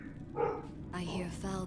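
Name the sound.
dogs barking in video game Diablo 2 Resurrected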